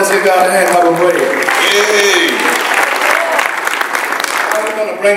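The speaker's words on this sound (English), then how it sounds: "Let's give God a hand clap of praise." A church congregation gives a burst of applause, dense and loud at first and then tapering, with voices ringing out over the clapping.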